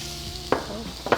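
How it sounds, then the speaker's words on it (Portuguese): Onion frying in butter for a leek risotto sizzles softly in the pan, with two short stirring scrapes standing out against the steady crackle. "aqui nós vamos estar fritando a nossa cebola"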